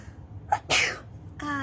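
A single sharp sneeze with a short intake of breath just before it, loud and close, followed by a brief voiced sound.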